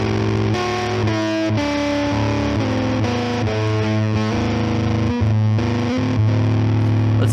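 Electric guitar through an EHX Percolator fuzz pedal, a thick, noisy distorted tone with sustained chords and note changes, heavy buzzing hiss throughout and no talking.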